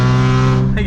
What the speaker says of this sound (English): It sounds good on low RPMs, high RPMs, but like right in between like 2 and 3, this is where it sounds horrible.